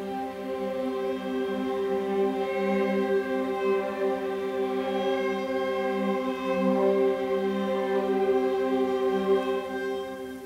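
Spitfire Olafur Arnalds Strings dissonance patch holding an open fifth and fourth: a sustained, slightly wavering string chord drones evenly for about ten seconds with no talk.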